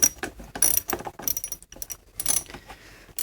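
A 5/16 wrench ratchets in quick bursts of clicks loosening the negative battery terminal on a 3800-engined Grand Prix GTP, close and crisp with brief pauses between strokes.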